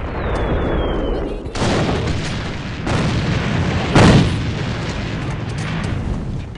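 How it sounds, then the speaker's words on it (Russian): Battle noise from the online shooter AVA, with a thrown grenade exploding. Dense, continuous gunfire and roar run throughout, and a sharper, louder blast hits near the middle. No voices are heard. "Бросаю гранату!"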